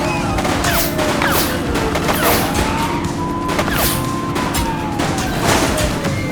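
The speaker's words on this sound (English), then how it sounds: "Shots fired!" Rapid bursts of gunfire crack loudly in the police game The Precinct, repeated shots over a busy mix of engine rumble and a wailing siren.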